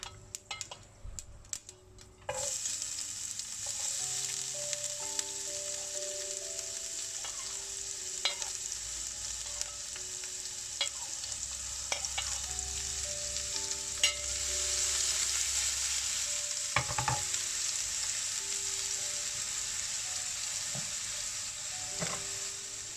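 Steady sizzling and crackling of onion and mustard seeds frying in hot oil, with occasional stirring clinks and ticks, close and continuous throughout.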